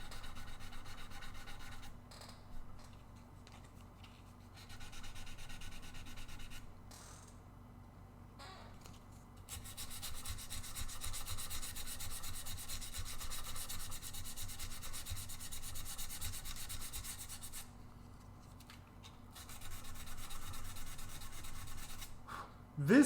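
Hand sanding on a guitar body, steady rhythmic rubbing strokes of abrasive paper on wood, close and fairly quiet, pausing briefly between passes then resuming in longer sustained runs.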